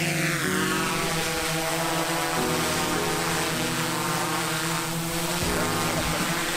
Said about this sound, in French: C'est un vrai drone.